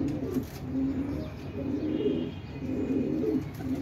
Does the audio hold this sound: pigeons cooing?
yes